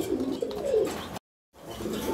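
Fancy Maltese pigeons cooing in a low, soft murmur, close by, with a brief total silence midway before the cooing resumes.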